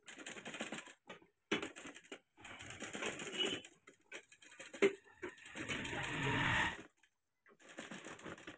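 A sewing machine stitches a kurti neckline in several short bursts of close rattling whir broken by pauses, with one longer continuous run near the end.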